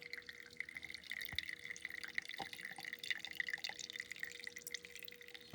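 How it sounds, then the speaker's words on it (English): Fuel drips and trickles from a drained carburetor float bowl on a Suzuki DR650 motorcycle, with faint irregular drops and splashes over a quiet background. "Draining the float bowl."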